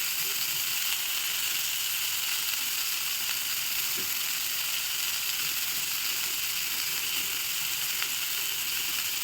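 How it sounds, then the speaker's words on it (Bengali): Prawns fry in a pan with onion, garlic and dried chilli, giving a steady, close hiss and sizzle with a few faint clicks and no talking. "এবার এই চিংড়ি মাছগুলোকে সব কিছুর সঙ্গে বেশ একটু লাল লাল করে ভাজবো 5 মিনিট মতো।"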